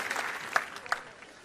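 A comedy festival audience in Marrakech claps, a short, fairly faint burst of scattered applause with a few sharp individual claps standing out.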